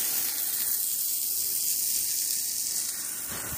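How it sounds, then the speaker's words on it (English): Burger patty sizzling steadily on medium-high heat in a pan just after being flipped, a continuous bright hiss with no talking. "I just flipped the burger"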